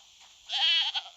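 A single goat bleats once in a cat simulator video game, a short wavering cry that is fairly clear against near silence.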